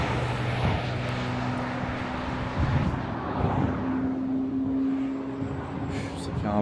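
A Ferrari 550 Maranello with a V12 engine roars past during a road convoy after Le Mans Classic, a steady loud engine drone with rising tones. Several people talk over it.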